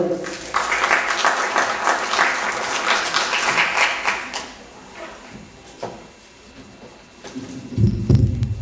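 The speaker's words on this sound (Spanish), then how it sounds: "Por favor, un fuerte aplauso" A lecture audience applauds loudly for several seconds, then the clapping fades out; a few knocks and a voice follow near the end.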